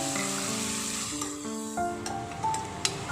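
Fenugreek leaves frying with tomatoes in a pan give a soft, continuous sizzle close by, with sustained tonal hum in the background and a few faint clinks near the end.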